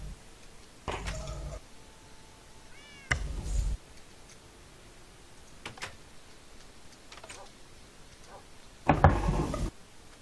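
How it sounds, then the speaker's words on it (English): A cat meows a few times in Minecraft among quiet background noise, with short bursts of louder sound scattered through. "Where's the cat? I can hear it meowing."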